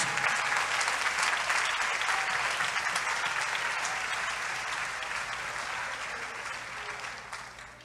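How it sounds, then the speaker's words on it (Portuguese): Congregation standing and applauding in an Assembly of God church during a Pentecost evening service, a dense steady wash of clapping filling the room for about eight seconds and easing slightly toward the end, with no voices over it. "Em pé e com uma salva de palmas para Jesus"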